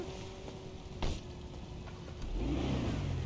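A van engine rumbles nearby and builds in revs as the vehicle pulls out, with a knock early on and a louder rise toward the end.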